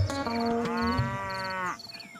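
A buffalo gives one long, loud, close bellowing low that lasts nearly two seconds, steady and strongly resonant, then cuts off into quiet outdoor background.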